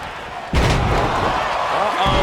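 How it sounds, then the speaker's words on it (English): A sledgehammer slams into the back of an opponent's neck in the wrestling video game WWE 2K23, giving one loud, sudden impact followed by a lingering rumble of crowd noise and commentary. "Brings down a hammer to turn the tide. Big impact to the back of the neck."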